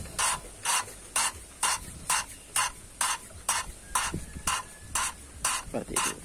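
Engine valve being lapped by twisting it back and forth on its seat, a rhythmic gritty scraping repeated about a dozen times in even strokes, close and clear with no talk.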